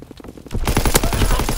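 Gunfire in Call of Duty: WWII, a burst of rapid automatic shots that starts abruptly after a brief quieter stretch and continues loud and dense to the end.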